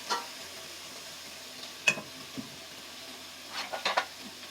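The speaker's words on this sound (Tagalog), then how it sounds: "Sa pagluluto po ng karne sa curry rice, hintayin muna natin mag-brown yung color ng karne." Meat for Japanese curry rice browns in a pan with a quiet, steady sizzle, broken by a few sharp clicks and scrapes from stirring.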